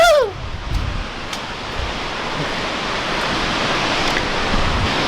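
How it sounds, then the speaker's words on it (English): Close, loud waterfall pouring onto rock, a steady broadband roar of crashing water with spray, continuous for the whole stretch after a brief whistle-like sweep at the start. "from the waterfall just falling down and just bouncing off the rock"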